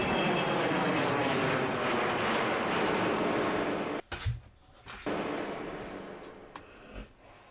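A large British V bomber jet flying a loop at the Farnborough air show, a loud continuous engine roar that fades and then swells again, with brief breaks near the end.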